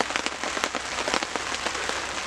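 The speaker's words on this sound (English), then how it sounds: "I actually really like being out in the rain." Rain patters on surfaces outdoors around a bushcraft shelter during a thunderstorm, a soft, irregular scatter of close drops over a faint steady hiss, with no voices.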